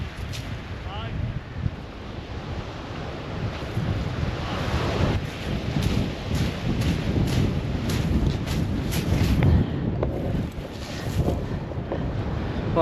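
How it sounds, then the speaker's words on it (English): Gusty wind buffets the microphone on a Brighton beach, with surf washing in the background and a voice talking intermittently over the steady, rumbling roar. "That wind's picking up a bit"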